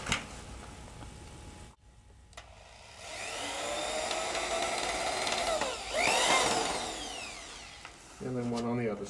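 A power drill whirs as a small sheetrock screw is driven through a pilot hole into a wooden clog fitted to a laminitic horse's hoof. The motor whines and rises in pitch over several seconds, and a brief voice follows at the end.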